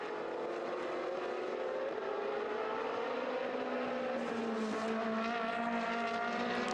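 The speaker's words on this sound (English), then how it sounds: "So there is Florian Merckx in the number 88 car, battling with David Gosner" Race cars in a Trofeo Pirelli race at the Valencia circuit battle closely. Their engines make a continuous loud, rising and falling drone as they pass, with no talk over them.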